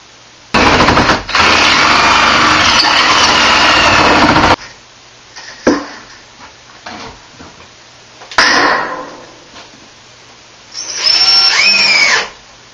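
A power drill drives screws into moisture-resistant bathroom sheetrock with a fiberglass-coated back, in a long loud burst followed by shorter bursts and a final whining run, with quiet gaps between.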